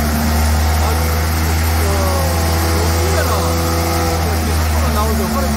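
A Volvo mowing machine fitted with a two-pump system drones with a steady, loud engine hum as it drives along, while someone talks over the running engine.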